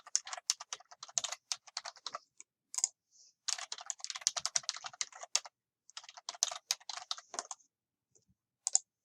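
Keys on a computer keyboard clatter in quick bursts while a form is filled in, fairly close and quiet, with short pauses between runs of typing.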